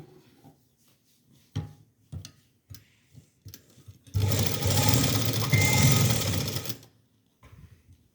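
A sewing machine stitches the side seams of a small doll dress for Ladoo Gopal, one loud steady whirring run of a few seconds, preceded by scattered clicks and handling taps and followed by quiet.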